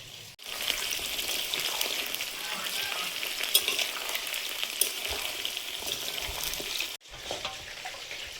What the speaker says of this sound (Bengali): চিকেনটা ভাজা হয়েছে, এবার তুলে দেব।